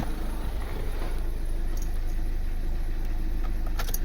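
A VW Tiguan 2.0 TDI diesel with a misfire fault runs at a steady, stable idle, its low, even rumble close and continuous with a brief light rattle near the end.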